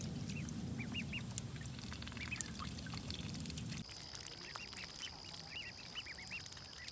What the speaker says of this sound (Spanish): Miren los patos,